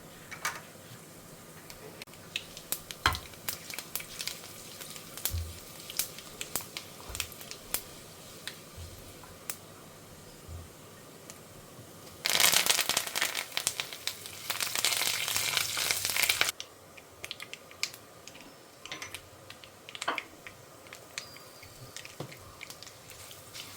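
Cumin, fenugreek and fennel seeds frying in oil for kara kuzhambu: scattered faint pops and crackles, then a loud steady burst of sizzling lasting a few seconds before settling back to quiet crackling.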